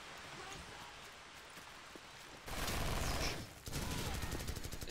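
Gunfire in Call of Duty 4 on the Blindside map starts as sparse shots, then at mid-clip turns into a loud burst like an explosion with rattling fire. A short dip is followed by more close, dense shooting.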